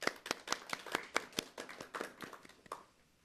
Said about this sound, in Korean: 박수 보내주시죠